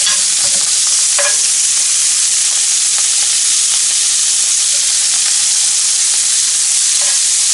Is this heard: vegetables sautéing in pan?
yes